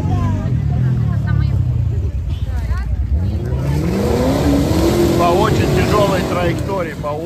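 An off-road rally car drives past on a rough race course and heads up a climb, its engine revving loud then rising as it moves off, with a commentator talking over it throughout.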